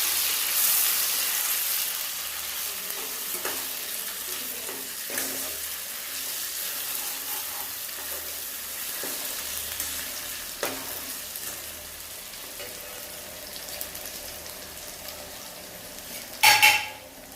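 Garlic-coconut masala with onion and tomato puree frying in a pan for mutton or chicken gravy, a soft steady sizzle with occasional spatula scrapes and a sharp metallic clank near the end.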